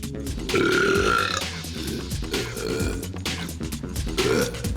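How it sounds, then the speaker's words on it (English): A long, loud, deep belch rumbles through the clip, swelling and fading in several drawn-out surges with no talking. "A fine belch, a truly magnificent eruption."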